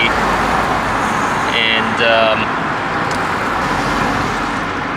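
BMW E60 on low-profile 20-inch wheels driving along a road, with a steady broadband rumble of engine, tyres and road noise throughout and brief talk in the middle.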